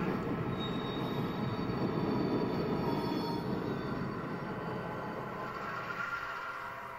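HO scale BNSF model train running on rails on a layout during local switching operations, giving a steady continuous rolling rumble with faint high squeal, fairly close and alone throughout.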